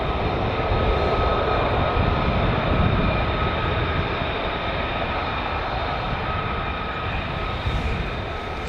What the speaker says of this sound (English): we've got F-35s coming down. I just saw one cross over just a second ago. I can hear them now.